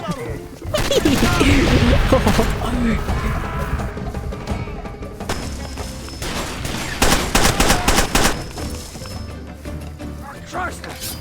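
Gunfire erupts in the video game Far Cry 2, with rapid automatic bursts and scattered shots and impacts, loud and close, clustered mainly in the middle and later stretches, while a player talks excitedly over the action.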